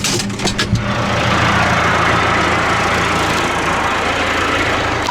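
A loud tractor engine rumbles steadily at idle, close by, with a few knocks at the start.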